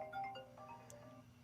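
A phone ringtone plays faintly in a quiet room, a short melodic electronic chime of a few tones with no talk.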